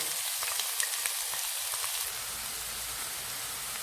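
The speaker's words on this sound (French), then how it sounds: "On a fait revenir les oignons." Onions frying in hot oil for a Greek moussaka, giving a steady, fairly quiet crackling sizzle that carries on without pause through the whole stretch.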